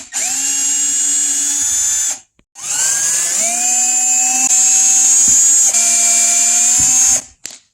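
Cordless power drill driving screws into a boat seat during upholstery work, two long loud whirring runs with a steady high whine, a short pause between them and brief stops near the end.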